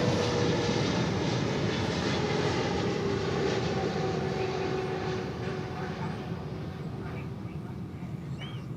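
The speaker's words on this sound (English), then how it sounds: "how about Emirates Flight 21 coming in? 777 from Dubai" Emirates Boeing 777 airliner arriving from Dubai at DFW airport, a broad, steady jet roar with a whining engine tone that slowly fades as the plane passes.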